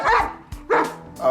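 A man imitates a dog, letting out three loud, sharp barks, close to the listener, with short pauses between them.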